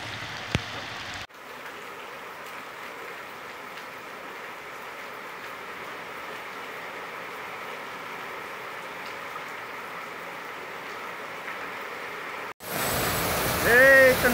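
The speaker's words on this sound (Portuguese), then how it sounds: "Tome chuva, graças a nosso Senhor Jesus Cristo." Heavy rain pours down steadily in northeastern Brazil, a dense, even hiss that holds for most of the stretch before a brief cut, with louder noise at the end.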